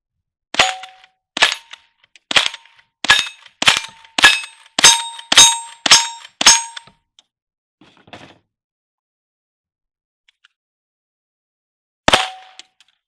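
A .22 rifle fires at steel targets during a Wild Bunch shooting stage: nine sharp, ringing shots come in quick, even succession, then a faint clatter, a pause and one final ringing shot.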